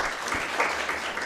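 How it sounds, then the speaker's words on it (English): Kenyatta University students clap for themselves at the finals of a moot court competition, a thick continuous burst of applause filling the whole short moment. "You need to clap for yourselves."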